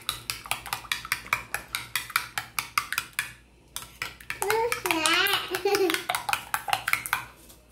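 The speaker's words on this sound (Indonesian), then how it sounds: "Yang kuning kita kocok ya teman-teman." Egg yolks whisked in a bowl for a Korean rolled omelette: quick, regular clinking strokes tap steadily for a few seconds, then stop as a voice speaks, with a few soft utensil sounds beneath.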